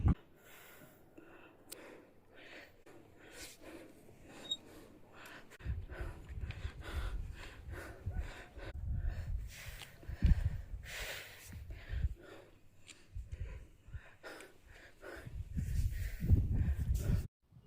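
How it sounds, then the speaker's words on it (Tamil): Heavy, labored breathing from a trekker climbing a hill, with repeated loud gasps and snorting exhalations in uneven bursts that grow stronger toward the end, close to the microphone and without clear talk. "உயரத்தில் ஏற ஏற ரொம்ப மூச்சு வாங்குது"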